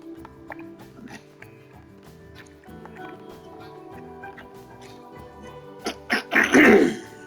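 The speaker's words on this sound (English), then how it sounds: "As I clear my throat." A person clears their throat loudly near the end, after several seconds of quiet, muffled background sounds.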